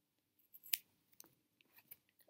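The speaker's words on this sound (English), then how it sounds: "You just need some scissors." Scissors snip through a crochet yarn tail in a few quick, faint, close clicks and metallic snips against a quiet room.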